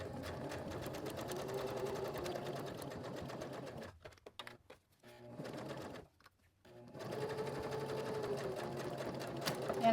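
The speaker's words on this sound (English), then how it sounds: "I am going to stitch across it and back stitch just to secure it." A sewing machine stitches a monogram keychain, whirring in a steady close run that stops twice briefly with quiet gaps before resuming, forward and back-stitch passes, faint throughout.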